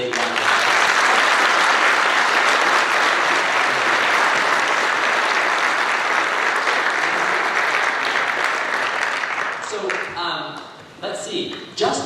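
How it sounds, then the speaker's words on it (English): Loud, sustained audience applause fills a school freshmen families night, steady dense clapping for about ten seconds before tapering off into scattered claps at the end. "So please give them a really big round of applause"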